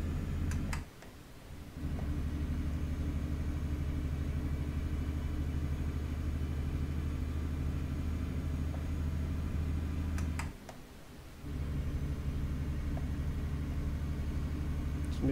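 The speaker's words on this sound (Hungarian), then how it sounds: "Milyen szép hangja van a Dafnak." A DAF truck engine in Euro Truck Simulator 2 drones steadily at a low, even pitch, dipping twice briefly as if shifting gears before the rumble returns.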